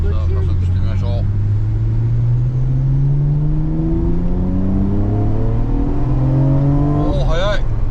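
A Nissan Skyline GT-R R34 fitted with an HKS V-cam accelerates hard up to a merge, its engine note climbing steadily and strongly from inside the cabin, with a person talking briefly at the start and end.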